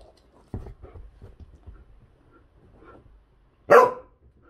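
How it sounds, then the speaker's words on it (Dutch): A dog gives a single loud, sharp bark close by, after a few seconds of quiet shuffling and soft low sounds. "Sinds wanneer blaf jij?"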